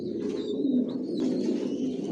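Racing pigeons of a single bloodline coo steadily inside a loft, a continuous low burbling chorus with a few faint higher chirps above it, fairly close and with no talking.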